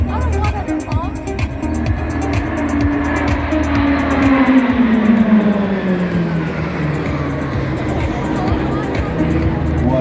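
RAAF Roulettes aerobatic team aircraft diving toward the ground at over 250 knots and splitting into a bomb burst at an airshow: a loud continuous engine roar that swells and falls in pitch as the planes pass, with crowd noise beneath.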